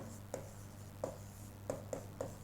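Marker or chalk strokes on a classroom board during a profit-and-loss lesson, five short separate taps and scrapes spaced unevenly, faint and close, with no speech.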